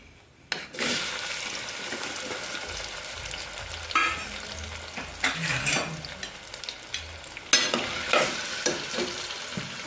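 Potatoes drop into hot oil already seasoned with asafoetida, bursting into loud, close sizzling and crackling that swells with each stir and scrape of the pan, no voices.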